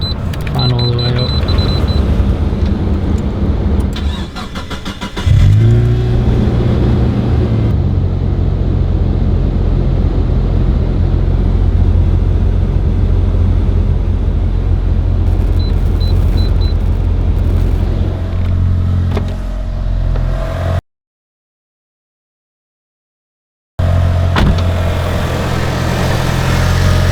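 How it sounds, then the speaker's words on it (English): A Mitsubishi EVO 5 engine is started after a radiator install and keeps running at a steady idle, a loud continuous rumble with a brief cut-out near the end and talk over it. "We're going to start the car"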